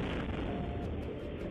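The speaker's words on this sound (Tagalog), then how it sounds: "nakuha sa kalapit bahay ang lakas ng pagsabog" Stockpiled firecrackers explode inside a house under construction, caught by a neighbor's CCTV: a dense, distorted roar of blasts and crackling fills the whole stretch at high, clipped loudness.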